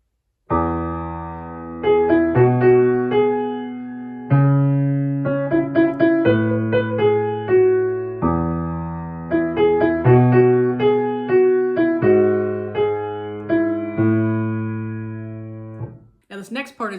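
Piano plays the melody over a left-hand bass line, steady notes that ring and decay in regular phrases, close and clear, ending with a brief noise at the very end.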